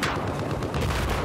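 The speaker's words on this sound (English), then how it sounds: "I'm getting sniped from somewhere." Sniper gunfire in a military shooter video game, dense and continuous crackling shots over a busy battlefield din, loud throughout with no clear gaps between reports.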